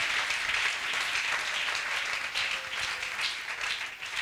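Church congregation applauding during a worship service, a dense, steady wash of clapping that fills the whole moment, close and lively with no break.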